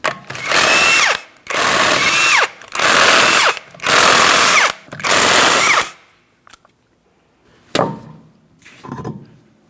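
Five loud bursts from a power impact tool, each about a second long with short gaps, spinning off 19mm lug nuts from the driver's side rear wheel of a 2004-2008 Pontiac Grand Prix, followed by a few faint clinks.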